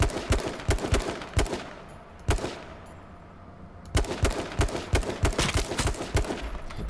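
Gunfire from another player in the H1Z1 battle royale video game comes in rapid automatic bursts of sharp shots, pausing briefly before resuming, loud and alone without talk.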